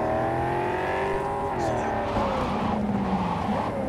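A car in Cyberpunk 2077 driving out of control without a handbrake: a loud, steady engine drone shifts pitch and drops midway, then rough tire scrubbing and skidding noise follows under faint speech.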